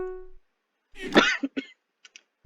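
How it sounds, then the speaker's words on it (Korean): A person coughs close to the microphone in a few rough bursts, preceded by a brief electronic tone and followed by quieter breathy coughs. "아유, 기침하고 난리 버렸어, 난."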